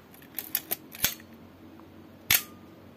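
Mechanical shutter of a Canon AE-1 film SLR firing on a one-second exposure, close and clear: a few light clicks, a sharp open snap, then about a second later a louder closing clack, with no talk over it.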